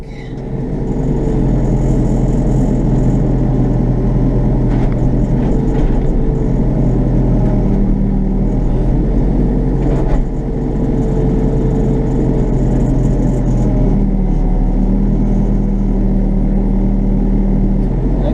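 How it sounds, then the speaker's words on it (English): An excavator engine lifts a heavy steel truck bed, producing a loud, steady low rumble that runs throughout with slight swells in power and no voices. "I gotta go get my excavator key and I'll use it to pick up that heavy piece of steel."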